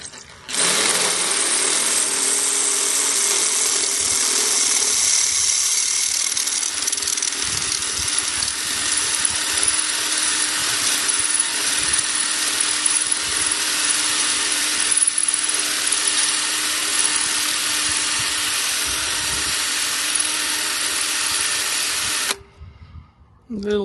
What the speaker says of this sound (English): it's going to cut through the rivet and then cut the head off.